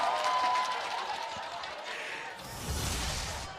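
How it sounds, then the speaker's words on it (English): Esports arena crowd at a Mobile Legends grand final roaring and cheering loudly throughout, swelling into a bigger burst near the end, with a commentator's voice mixed in. "Crowd goes wild."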